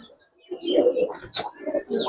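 Giribaz tumbler pigeons sold in pairs at a loft coo repeatedly, hand-held and close, in a run of soft low bursts with a brief higher call partway through.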